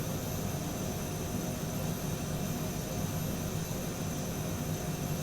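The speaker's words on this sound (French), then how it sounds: "c'est un petit objet volant sympa à réaction qui a tout son intérêt" Small Bede BD-5J jet's engine in Microsoft Flight Simulator 2020, a steady, loud broadband roar with a low rumble and faint high whine, continuous without change.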